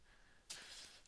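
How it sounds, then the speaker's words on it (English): A person clears their throat once with a short, rough rasp that tails off, heard close and alone against faint room hiss. "There's me clearing my throat"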